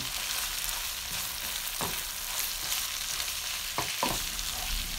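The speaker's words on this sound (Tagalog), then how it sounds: "Gisa lang po natin yan." Carrots sautéing in a pan after onion, a steady close sizzle broken by a few sharp scrapes and clacks of a stirring utensil, with no talking.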